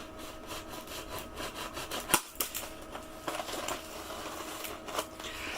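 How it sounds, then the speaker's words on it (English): Knife blade slicing through packing tape wrapped around a mystery box package, a run of scratchy rasping strokes with one sharp snap midway, close and moderately quiet, no voices. "I don't want to cut deep with the knife because I don't want to scratch the item itself"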